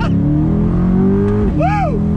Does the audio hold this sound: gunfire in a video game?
no